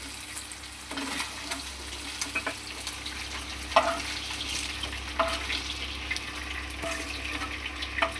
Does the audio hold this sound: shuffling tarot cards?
no